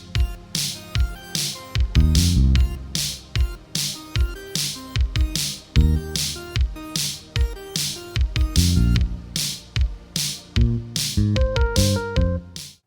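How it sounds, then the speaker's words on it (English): Minecraft note blocks play a synthesizer-style intro riff as a brisk, steady run of short plucked notes over punchy low drum-like hits, bright and busy throughout. "This is the part before the singing comes in when the synthesizer plays a riff."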